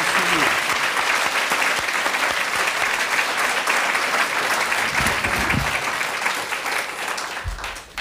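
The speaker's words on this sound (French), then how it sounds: "On l'applaudit quand même, le petit." Studio audience of a television variety show clapping for a small child, a dense burst of applause that stays strong before thinning and fading out near the end.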